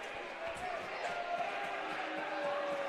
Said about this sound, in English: Crowd doesn't like that